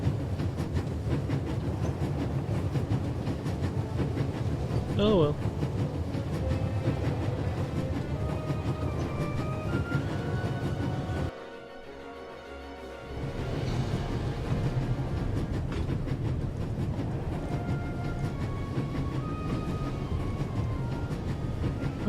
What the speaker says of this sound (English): There's nothing quite like traveling on a train.